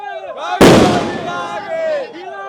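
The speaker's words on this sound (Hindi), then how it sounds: "ये आतिशबाजी चल रही है" Fireworks burst loudly and suddenly at an outdoor political celebration, a sharp explosive crack followed by a long crackling decay, with a crowd talking and calling out underneath throughout.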